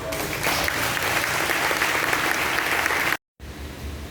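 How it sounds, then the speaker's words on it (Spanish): A church congregation breaks into loud, dense applause after a sermon prayer, sustained steadily for about three seconds before a brief cut, then more clapping resumes. "démosles un fuerte aplauso"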